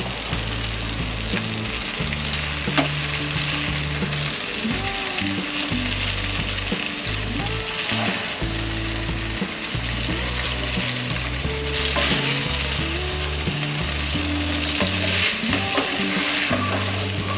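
Vegetables and boiled Maggi noodles fry without oil in a pan for a street-style masala dish. A steady close sizzle runs throughout, broken by repeated scraping and clinking as the spatula stirs.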